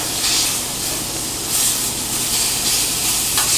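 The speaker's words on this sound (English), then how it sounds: "You want to make sure that you get a nice, good sear on this." Meat searing in a dry pan with no oil, cooked toward medium rare, gives a steady, loud, close sizzle and hiss that runs unbroken from start to finish.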